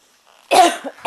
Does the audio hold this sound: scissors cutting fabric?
no